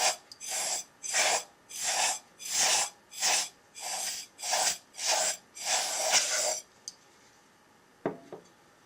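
A can of compressed air gives about nine short, sharp hissing bursts in a steady rhythm while blowing dust out of a computer mouse, then a couple of faint clicks; close and alone.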